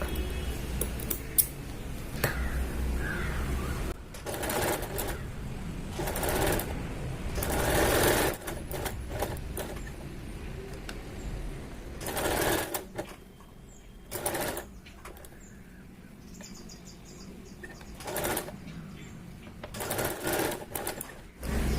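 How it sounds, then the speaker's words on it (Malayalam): A sewing machine stitches along the edge of a kurti neckline in bursts of rapid whirring, broken by pauses and small clicks of handling and scissors, close and fairly loud with no talk. "പിന്നെ നമുക്ക് ഈ നെക്കിന്റെ അരികുവശം ഇനി തയ്ച്ചെടുക്കാം."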